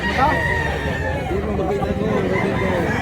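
A rooster crows at a poultry market in Mantalungon, Cebu, its call rising over a constant hubbub of nearby voices and chatter, with other birds clucking faintly in the mix.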